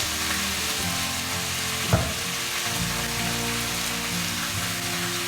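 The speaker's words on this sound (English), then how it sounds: "I'm going to now put my beef in." Beef for chili sizzles steadily in a hot pot, a loud, close, continuous frying hiss with one brief clank of a utensil partway through, over a faint low background hum.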